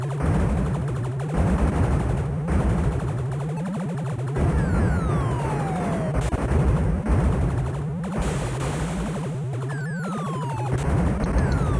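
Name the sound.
blaster shots at fuel canisters in a video game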